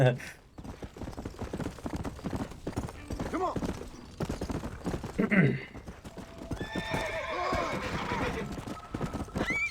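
Horses in the video game Red Dead Redemption move with a run of hooves clip-clopping, broken by a loud whinny partway through and another neigh later. A voice speaks over parts of it.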